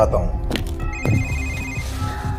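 A telephone rings in a home at night, an electronic ringing tone with steady repeating pulses sounding fairly loud over a background of voices and music.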